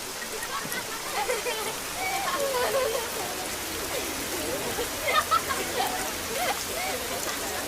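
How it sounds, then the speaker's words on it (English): Rain falls in a steady, even hiss of drops throughout, with faint voices mixed in now and then. "Look at this rain."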